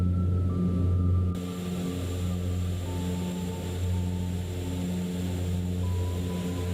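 Turboprop engines of a FlyJSim Dash 8 Q400 drone steadily in a flight simulator with a constant low rumble and a high tonal whine, alone and without talk.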